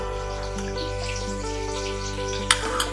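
Kelakai fern (pakis) frying in a pan, giving a steady, close sizzle of hiss and crackle throughout, with a couple of sharper pops near the end and no talking.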